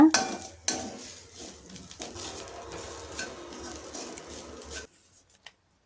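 Chickpea usli masala with curry leaves is fried and stirred in a pan, giving a soft crackle with scraping utensil strokes and a couple of sharper clinks near the start, ending abruptly in near silence.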